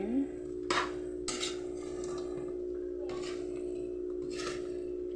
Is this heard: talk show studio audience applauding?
no